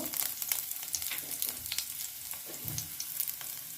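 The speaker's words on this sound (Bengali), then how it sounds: "তেলটা গরম হয়ে গেছে সামান্য রসুন কুচি দিয়ে দেব" Chopped garlic hits hot oil for restaurant-style chilli paneer, giving a steady crackling sizzle with a few soft stirring scrapes, close and moderately quiet, with no talking.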